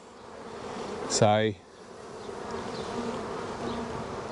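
Honey bees at a Flow Hive during their transfer into the new hive give a brief, loud, close buzz lasting under half a second, followed by a softer background hum, with a few spoken words.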